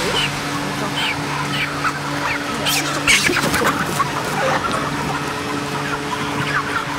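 Crowded broiler chickens, about 40 days old, packed inside a barn, giving a dense continuous chorus of clucks and chirps with a steady ventilation hum underneath, loud and close throughout.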